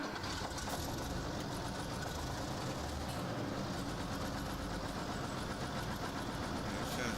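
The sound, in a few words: tractor engine with knock and rattle, video game Farming Simulator 17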